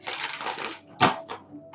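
A deck of tarot cards is shuffled in a riffle of rapid papery flutter, followed by a sharp tap and a few softer card sounds, close and moderately loud with no talk.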